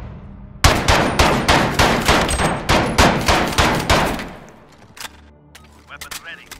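Gunfire in the Modern Warfare video game: a rapid burst of about fifteen loud, evenly spaced shots from close range, cutting off and followed by quieter rattling and movement.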